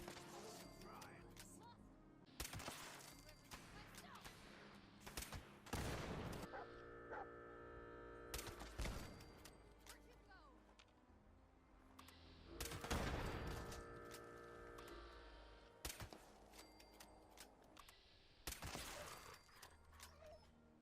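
Bolt action rifle firing explosive bullets in Fallout 76: several loud broadband blasts, each with a ringing tail, repeat every few seconds over a steady hum.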